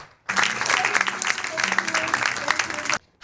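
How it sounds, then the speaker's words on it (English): An audience claps for a performer at a talent event, a dense burst of applause that starts abruptly, holds loud and steady for a few seconds, then cuts off, with faint voices mixed in. "once more, can you clap for Joyce?"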